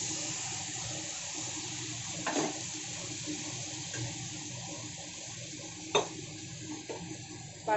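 Water from a rinsed bowl tipped into a pan of cooking onion and spices for daliya khichuri: a few soft gushes and splashes rising briefly over a quiet, steady background hiss.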